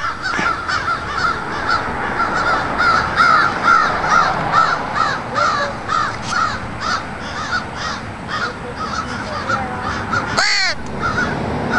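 Two crows caw repeatedly in loud, rhythmic bursts close by, calls overlapping through most of the stretch with a sharp louder cry near the end.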